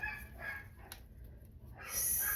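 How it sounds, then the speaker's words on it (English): A pet dog barks downstairs in a house, a few faint, distant yips and barks with a whimpering edge, heard indoors behind quiet room noise. "y'all might be able to hear my dog barking"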